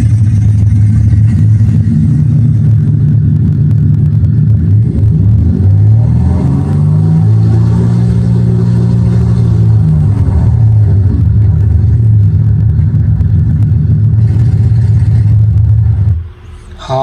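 Simulated engine of a German Ta 152 fighter aircraft playing from a model airplane sound system: a loud, continuous piston drone whose pitch swells and eases mid-clip, then cuts off near the end.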